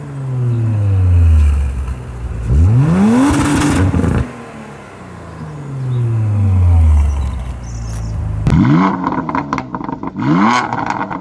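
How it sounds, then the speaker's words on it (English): An Audi RS5 revs through repeated pulls, the exhaust rising and falling in two long sweeps before a rapid burst of throttle blips near the end, loud and close with no talk. "So first you're going to hear the RS5"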